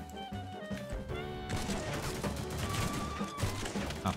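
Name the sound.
sniper gunfire in the video game The Mean Greens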